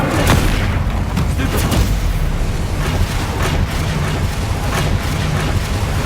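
Incendio fire spell cast in the Hogwarts Legacy video game: loud, dense fiery whooshes and booming bursts pile up one after another, with a speaking voice heard partway through.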